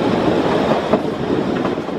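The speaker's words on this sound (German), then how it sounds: "Vor der Einfahrt in den Bahnhof Schmiedeberg überquert der Zug auf einem 191 Meter langen Viadukt das" The Weißeritztalbahn narrow-gauge train rolls across a 191-metre viaduct before Schmiedeberg station, a loud continuous rumble of wheels and carriages close by, with a brief squeal near the middle.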